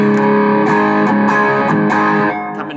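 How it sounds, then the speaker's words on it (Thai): An electric guitar driven through a Mookalei Shark overdrive pedal plays a few loud, gritty chords and notes up close, each strum sharply attacked before the sound fades out at the end. "ทีนี้พอเสียง clean ผ่านเสร็จลองเป็นเสียงแตกดู"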